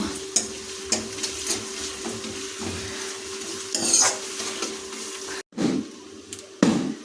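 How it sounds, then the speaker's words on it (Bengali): Salted onions frying in oil while being stirred, with a bright sizzle and repeated metallic clinks and scrapes of a spoon against the pan, a louder scraping burst midway and brief pauses near the end. "যেহেতু আমরা পেঁয়াজের মতো লবণ যোগ করছি তাই এটাকে কিছুক্ষণ নাড়িয়ে নেব"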